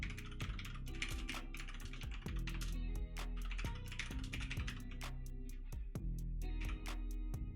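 Rapid, steady typing on a computer keyboard during a livestream, with dense clicking keystrokes continuing unbroken throughout and no talking.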